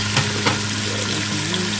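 Onion fries in a pan for a mushroom chicken pasta dish, giving a steady, close sizzle that holds even throughout with no talking.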